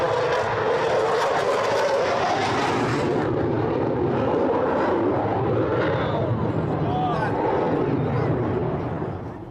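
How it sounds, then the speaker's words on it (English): A Royal Air Force Typhoon fighter jet roars past loud and close, its broad engine rumble swelling from one side, holding at full volume, then fading slightly at the end. "So you can hear the volume increasing from the right-hand side. I give you Royal Air Force Typhoon."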